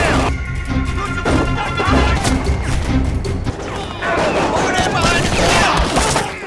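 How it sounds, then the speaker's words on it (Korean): Gunfire erupts in a chaotic film action scene at an illicit trade deal, with dense bursts of shots, crashes and impacts over a loud, busy mix, voices shouting beneath the clamor. "제이크가 쏜 총소리로 인해 밀매 현장은 단번에 아수라장이 되어버리고"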